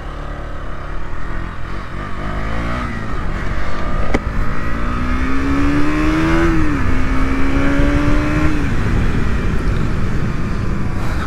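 A KTM Duke 200 motorcycle on a test ride revs loudly and continuously, its engine note climbing and shifting through gears with steady wind and road noise throughout.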